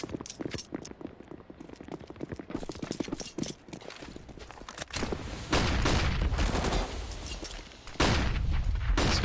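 An early gunfight in a Counter-Strike match on the Vertigo map between North and Movistar Riders, dense bursts of rapid gunfire and clattering footsteps growing louder and busier, with a commentator talking underneath.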